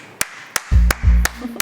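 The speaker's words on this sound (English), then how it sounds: "You're clapping, I don't know." A handful of slow, evenly spaced claps ring out at a live poker match at The Cube, five sharp hand strikes over a low electronic hum.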